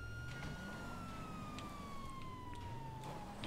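A police car siren wails in GTA Online, a faint, slowly falling tone sustained throughout under a low engine rumble, with scattered clicks of game sounds around it.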